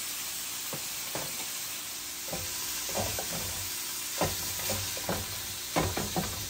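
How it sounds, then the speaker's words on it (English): Chopped cheese meat frying on a hot griddle, a constant loud sizzle broken by repeated scraping and chopping clicks from a spatula, with no talking. "That meat cook right there."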